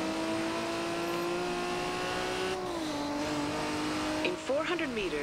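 A Nissan Skyline in the racing game Forza Horizon 2 drives with a steady engine drone that shifts pitch as it changes gear, then brief tire squeals near the end, heard alone and fairly close.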